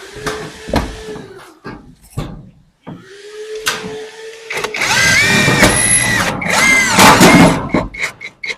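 A power drill whirs in short bursts in a tight spot during house renovation, then runs longer and strains loudly, with clicks and clatter between bursts; no talking.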